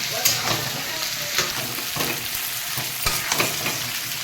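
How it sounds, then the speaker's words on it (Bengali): Taro frying in a pan, a steady close sizzle broken by occasional scraping stirs. "কচুটাকে ভালো করে বা যেটা কাঁচি কচু বলে ভালো করে একটু ভেজে নিতে হবে"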